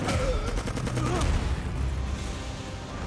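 Rapid gunfire rings out in an anime scene as guards shoot at a prison inmate who stepped outside his cell, a loud, dense burst that fades into a sustained rumble.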